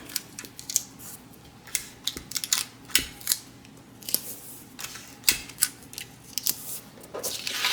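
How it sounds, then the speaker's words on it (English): Scissors snip through a paper pattern for a DIY tote bag, a close, crisp run of irregular cutting clicks and blade scrapes, steady throughout with no talking. "you can just cut off the rest of your paper here"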